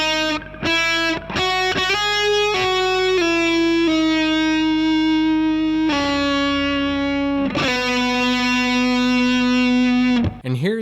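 Heavily distorted electric guitar plays a smooth legato phrase, sustained notes sliding and flowing into one another with light vibrato, loud and alone.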